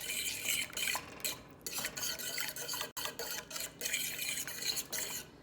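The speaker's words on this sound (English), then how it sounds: "Make sure you give it a good stir, so like I said, you don't end up with scrambled eggs." Egg stirred into cooked pasta in a bowl for lasagna, a close, steady run of wet scraping and clinking of a utensil against the dish, with only brief pauses.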